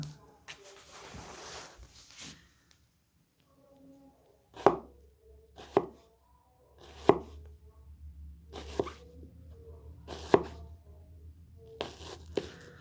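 An onion is cut with an Entrek Bravo 11 thick-bladed knife, giving a series of sharp, separate chops at uneven intervals, loud and close, with quieter rustling between strikes.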